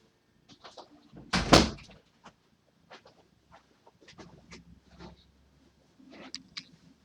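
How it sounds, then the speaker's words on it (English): A door swings and bangs shut with one loud, sharp thud early on, followed by faint scattered knocks, rustles and small clicks in a quiet room. "I have to shut the door."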